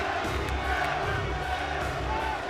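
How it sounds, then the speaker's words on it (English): A wrestling arena crowd roars and yells continuously after Sabu wins a TNA match, a dense, steady wall of cheering voices with no pauses. "the crowd yelling Sabu has won"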